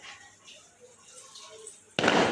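Firecrackers set off for a wedding in the neighbourhood: low outdoor ambience is followed by a sudden loud, close burst of crackling that holds to the end.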